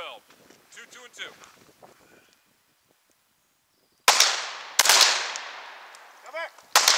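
Gunshots crack at a shooting range qualification: three sharp reports at close range with ringing tails, following instructions spoken quietly in the first couple of seconds.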